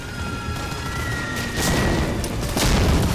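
Explosions in the Medal of Honor Warchest video game, two loud booming blasts a second apart that rise out of constant, noisy combat din.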